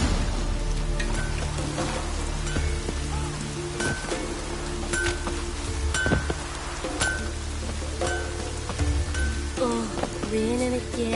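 Rain falling in the video game The Witcher 3, a steady dense patter with scattered drip ticks and low ambient rumble held at an even level throughout.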